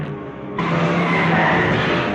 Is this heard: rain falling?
no